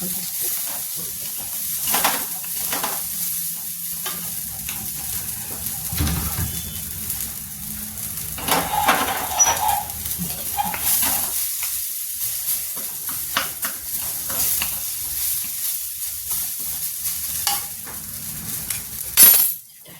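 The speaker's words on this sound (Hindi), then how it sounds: "अब इतना ही प्याज हम भूनेंगे।" Onions sizzle steadily in a hot pan while a utensil stirs and scrapes, with occasional clinks against the cookware.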